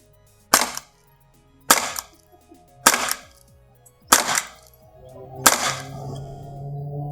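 An ASG CZ 75 P-07 Duty airsoft blowback pistol fires five sharp, loud cracks, each about a second apart, each with a quick slide snap, in a quiet setting.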